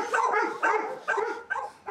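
A dog barks excitedly in a run of four or five sharp, close, loud barks that come in uneven bursts, with no voices over them.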